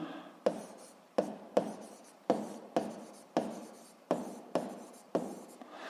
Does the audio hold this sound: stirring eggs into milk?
no